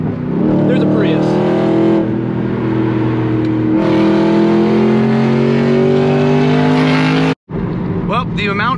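A car engine on a rally drive revs up and down through downshifts, loud and close, with rising and falling engine tones that hold almost continuously apart from one brief cut near the end.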